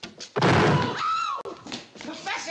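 A door slams shut with a single heavy thunk, followed by a shorter knock and frantic voices shouting around it.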